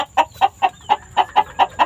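A sweater gray breed hen clucks close by in a quick, even series of about eight sharp clucks.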